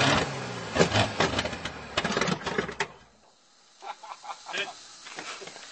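A Buick Fireball straight-eight engine cranks and catches with a loud, uneven burst of running in the first three seconds, then cuts out, leaving quieter intermittent rumbles and voices talking nearby.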